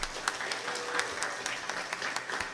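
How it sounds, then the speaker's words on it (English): Crowd claps for the hosts of interns at a Palau scholarship board ceremony, a lively continuous patter of many hands with a few sharper claps standing out, fairly close and unaccompanied by speech. "Please give them a round of applause."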